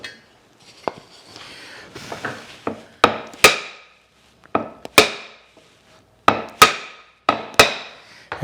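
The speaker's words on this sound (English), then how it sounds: "I'm going to use a steel hammer" A steel hammer taps a block of wood to knock down a mitered dovetail joint. About a dozen sharp knocks come in irregular pairs and singles, close and distinct, with quiet gaps between.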